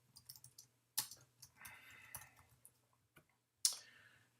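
Sparse computer mouse clicks and light keyboard keystrokes tap close by in a quiet room, a few crisp sharp clicks spaced irregularly with short bursts of typing between, no voices.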